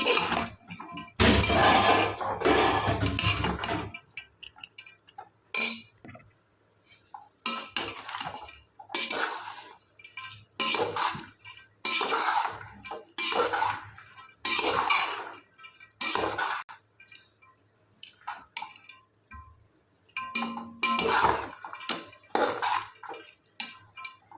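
Chickpeas, turmeric and salt are stirred in oil inside a pressure cooker pot, giving repeated bursts of close metallic scraping and clattering with short pauses between them.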